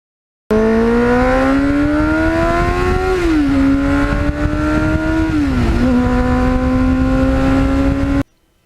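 A Kawasaki GPX750R Ninja motorcycle with 38,000 miles runs loud and close while being ridden, its steady engine drone dipping and rising again twice as the rider shifts through gears.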